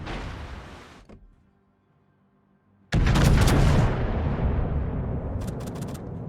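Naval guns fire in World of Warships: a booming blast fades into near silence, then a second loud report about three seconds in rolls into a long, sustained rumble, with crackling impacts near the end and no voices.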